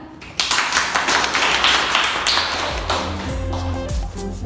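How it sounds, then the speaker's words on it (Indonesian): A classroom group claps for Senja and Hasan in a dense burst of close hand claps that fades out toward the end. "tepuk tangan untuk Senja dan Hasan"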